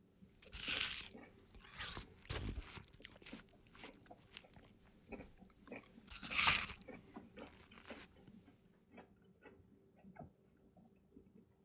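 Crunchy bites of panzanella salad with cucumber, pepper and bread, close and fairly quiet: a handful of sharp crisp crunches followed by softer chewing, with no talking.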